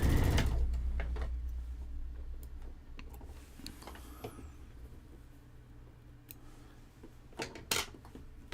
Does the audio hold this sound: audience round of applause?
no